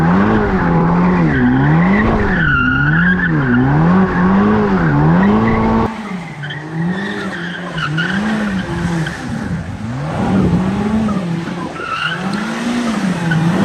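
Lamborghini Revuelto sports car, the Aventador's replacement, in a private collection garage: a loud engine revving in rising and falling waves, then settling to a rougher, throbbing idle, close and alone with no talk.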